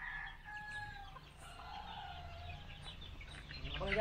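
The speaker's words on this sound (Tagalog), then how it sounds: "Putak." Chickens cluck and call nearby, with short raised clucks and a faint crow-like cry over low background murmur and shuffling. The birds grow slightly louder toward the end, with no clear speech.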